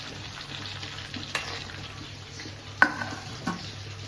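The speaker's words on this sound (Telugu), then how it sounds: "ఇలా చింతపండు వేస్తే నూనెలో పొంగు అనేది" Tamarind fries in hot oil while drumstick pickle is made, a low, steady sizzle broken by a few metallic stirring taps and one sharp clatter partway through, no voices.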